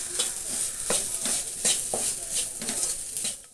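Turmeric, coriander and pepper powder are stirred into a frying mixture, giving repeated scraping strokes of a spoon against the pan over a constant soft sizzle, at a moderate even rhythm.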